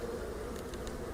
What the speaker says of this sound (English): I think I heard a bee dying